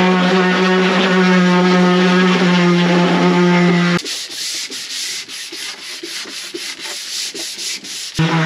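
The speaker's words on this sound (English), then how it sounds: "And then they get sanded." A surface on a sailboat sole being sanded: a loud, steady droning power sander for about four seconds, then a rougher, scratchy sanding rasp with irregular scrapes, with no talk.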